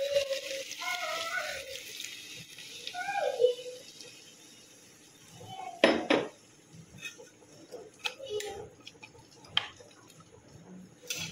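Water pours into a cooking pan, a soft splashing trickle that comes in short bursts with clinks and knocks in a quiet kitchen, and a voice speaks faintly between the sounds.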